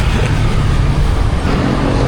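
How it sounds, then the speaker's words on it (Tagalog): Dense, steady roar of heavy road traffic on the Carino Highway, cars, buses and trucks rumbling close by as one continuous, loud wash of engine and tire noise with no clear breaks. "grabe ka talaga, Carino Highway. Antindi. Antindi ng traffic"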